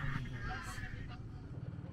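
Ducks honk and quack a few times in a short burst, somewhat distant and mixed into steady outdoor background noise, with possible voices faintly underneath.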